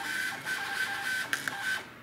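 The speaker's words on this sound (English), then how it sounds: "it automatically goes ahead and it prints out to the printer" A scale house ticket printer runs, giving a steady electronic whine with a faint mechanical buzz, broken by a couple of sharp clicks as the ticket feeds through.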